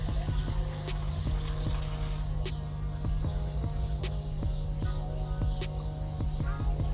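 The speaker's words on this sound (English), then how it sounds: "Fill it up with water" Water pouring into a container of compost, a continuous gurgling splash over a steady low hum, fairly close and even throughout.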